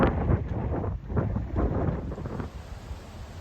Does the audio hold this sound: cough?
no